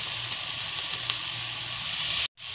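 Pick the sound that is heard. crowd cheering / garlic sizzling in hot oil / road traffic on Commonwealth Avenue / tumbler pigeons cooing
garlic sizzling in hot oil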